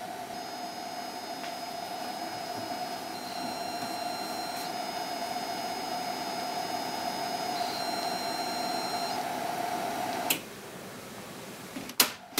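Amstrad CPC 464 built-in tape drive saving a program, a steady whining data tone with faint motor hiss running continuously, then stopping abruptly with a couple of mechanical clicks at the end.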